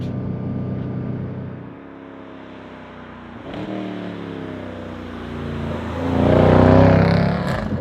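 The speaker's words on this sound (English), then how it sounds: "what an engine, what a sound" A Mercedes-AMG C63 Black Series engine revs up hard, drops briefly on a downshift, then climbs again to a loud, rising roar, with no talk over it.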